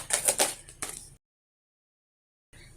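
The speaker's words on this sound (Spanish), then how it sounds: "ahora vamos a barajar las cartas de profundización" Tarot cards are shuffled in a few quick, crisp riffling bursts up close, then the sound cuts to silence before faint noise returns.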